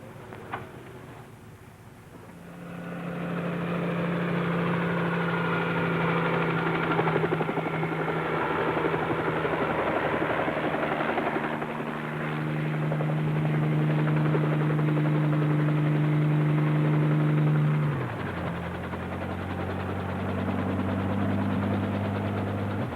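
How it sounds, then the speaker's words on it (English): A helicopter approaches and hovers overhead, its steady rotor and engine drone loud and continuous, with the pitch dropping noticeably near the end as it passes or descends. "Cartwright's plane, isn't it?"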